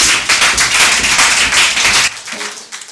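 Church congregation applauding in praise, a dense loud burst of many hands clapping for about two seconds, then thinning to scattered claps and fading.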